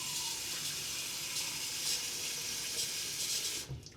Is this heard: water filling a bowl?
yes